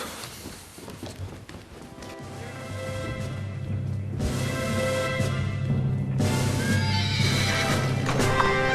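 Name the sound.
horses neighing and hooves clip-clopping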